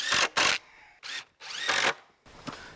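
Cordless power drill driving screws into the wooden frame of a self-closing garden gate, several short whirring bursts close by with brief gaps between them.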